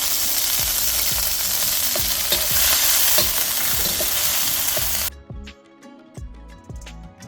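About 100 grams of green curry paste hitting hot oil in a pan for Thai green chicken curry: a loud, dense sizzle with rhythmic stirring clacks. The sizzle drops off abruptly near the end, leaving quieter clinks and scrapes.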